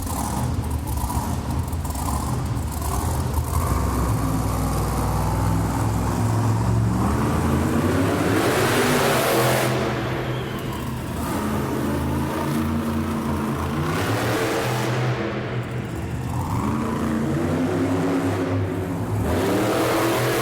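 A monster truck engine revs loudly and continuously at a Monster Jam event, roaring up and down in pitch with rumbling low end, no talking.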